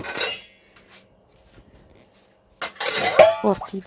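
Dishes and cutlery clink and clatter while being washed, in two bursts separated by a quiet pause.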